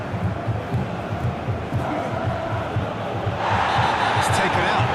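A football crowd at a Persib Bandung versus Selangor AFC Champions League Two group match applauds a substituted player, a dense sustained roar of clapping and cheering that swells louder near the end, with a commentator speaking over it.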